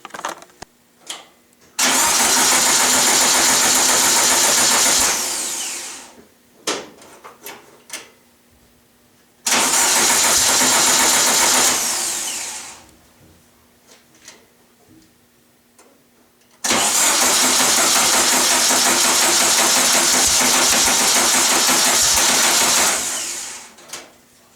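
Kubelwagen engine fitted with a new ignition coil cranks and runs in three loud, steady bursts of several seconds each, separated by quieter pauses with faint clicks and handling noises.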